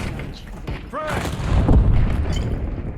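A flashbang grenade goes off in a video game, a heavy boom swelling midway under a voice with scattered game effects around it.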